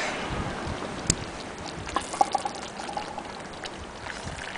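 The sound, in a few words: wind blowing hard outdoors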